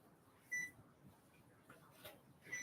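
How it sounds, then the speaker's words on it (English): An oven timer beeping as a pie finishes baking, two short electronic tones about two seconds apart, faint and thin against quiet room noise. "You hear it beeping?"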